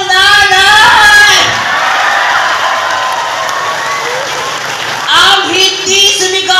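A crowd at a gay beauty pageant erupts in loud applause, cheering and high-pitched shouts and whoops, near and sustained, dipping slightly before surging again.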